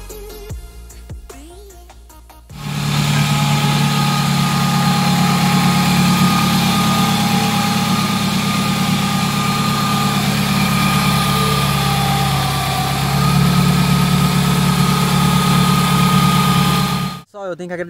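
A rebuilt Chevrolet Astra engine starts after a brief quiet moment and idles loudly and steadily at close range for about fifteen seconds, with a deep, even low rumble, then cuts off abruptly near the end.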